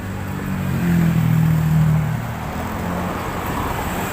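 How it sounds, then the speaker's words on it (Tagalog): A vehicle passes nearby with a low engine rumble that swells and fades, over steady road noise from ongoing traffic. "sa tunog lang mga sasakyan dito"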